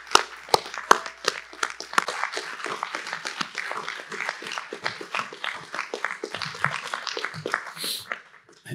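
A room of people at a DTE Energy Trenton Channel plant gathering gives a round of applause, a dense spread of individual claps fairly close and moderately loud, lasting the full stretch before tapering at the end.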